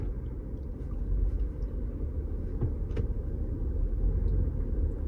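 From inside an SUV in heavy traffic near the Newburgh Beacon Bridge comes a continuous low road rumble and engine drone, steady and fairly loud throughout.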